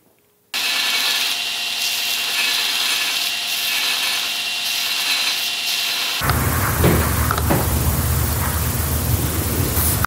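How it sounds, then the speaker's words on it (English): A belt grinder sands cadmium plating off a steel bolt, a sudden loud, steady abrasive roar that starts after a brief quiet moment and turns harsher and rougher partway through. "So let's take that over to the belt grinder real quick and sand that off."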